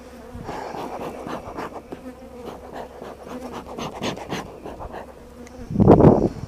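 Honeybees buzzing close around a beekeeper working a hive, a steady droning hum with individual bees whirring past, and one loud bee zipping right by near the end.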